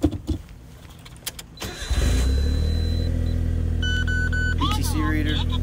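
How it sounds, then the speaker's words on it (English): A 1992 Autozam AZ1 with a 5-speed manual and a turbo cranks, catches and settles into a loud, steady rumbling idle close by, with people talking before it fires and a brief whistle over the running engine. "if I just turn on the car and let you guys hear the monster in the back"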